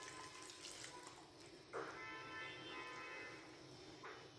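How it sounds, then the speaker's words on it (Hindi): Water poured into a cooking pot of Lahori chikar cholay after the chickpeas have been fried, making a soft continuous trickle and splash that swells for a few seconds at moderate volume, with no voices. "पानी जितना ज़रूरत होगा उस मुताबिक हम यहाँ पे पानी ऐड करेंगे।"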